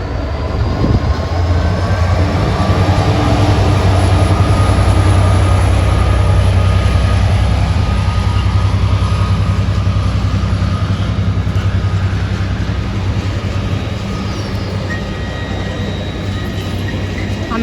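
A Class 66 diesel locomotive, 66416, rolls into Doncaster station with a loud, continuous rumble of engine and wheels that holds steady throughout and drowns out the surroundings.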